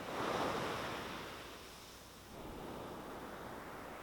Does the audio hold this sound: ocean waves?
yes